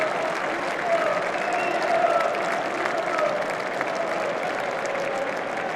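Football crowd at a Tottenham Hotspur versus Doncaster Rovers League Cup match applauding a substituted player, steady sustained clapping from the stands with no break throughout.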